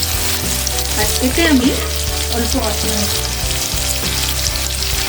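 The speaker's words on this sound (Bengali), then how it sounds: "অল্প নুন দিলে এটা ভাজাটা খুব তাড়াতাড়ি হয়ে যায়।" Snakehead fish fries in hot oil in a pan with a steady loud sizzle and crackle, while someone talks briefly over it.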